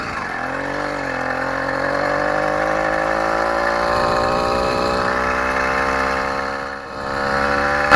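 A Bikeberry BBR motorized bicycle engine runs steadily up close, a loud continuous two-stroke drone with a slight rise in pitch and one brief dip near the end.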